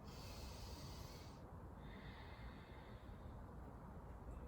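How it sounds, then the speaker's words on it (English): Slow, deep breaths drawn in and pushed out through the nose during a beginner hatha yoga class for older adults, heard alone and close with a steady breathy hiss. "Deep yoga breaths."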